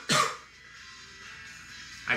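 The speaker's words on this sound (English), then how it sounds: "I coughed, I apologize." One short, sharp cough bursts out near the start, then fades to quiet room noise before a second brief burst at the very end.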